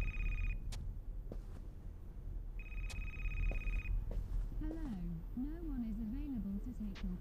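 A telephone rings in the video game Happy's Humble Burger Farm, sounding two separate bursts of bright electronic ringing with a pause between them, followed by voice-like sounds.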